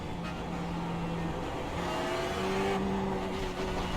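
A Ferrari 488 GT3 race car engine hums and revs steadily during a night session in iRacing, with tonal engine notes shifting pitch through gear changes at moderate loudness.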